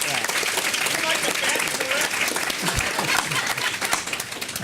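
A conference audience at a morning forum session in Nashville applauds for a panelist, with dense, sustained clapping filling the room, fairly close and loud, and some voices mixed in.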